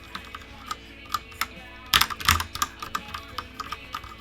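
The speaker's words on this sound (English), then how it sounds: "This is our new Ducky keyboard." Ducky mechanical keyboard fitted with HyperX shine-through keycaps, typed on in a quiet room: scattered clicky keystrokes, faint at first, then a quick burst of louder clacks before sparser taps resume.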